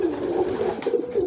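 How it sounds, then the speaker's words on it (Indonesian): A young pigeon (squab) coos softly and repeatedly, a close, low throaty murmur with a brief pause midway and no talking over it. "Ini merpati piyik."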